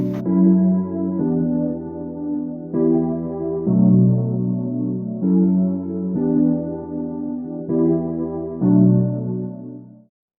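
Warm RnB electric piano chords built in FL Studio, each strummed so the notes roll in quickly, sound in a steady sequence of sustained chords about every one to one and a half seconds, close and clear with no voices.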